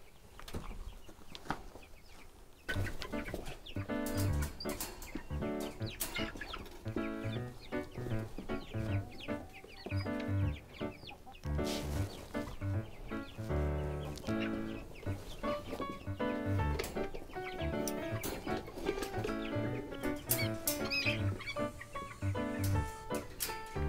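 Chickens clucking and squawking inside a farm coop guarded by a goose, with a continuous busy chorus of overlapping calls up close for the whole stretch.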